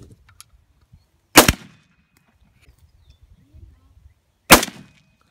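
Two loud, sharp gunshots from real firearms at an outdoor shooting range, spaced about three seconds apart, each a close, booming crack with a short tail, separated by near-quiet.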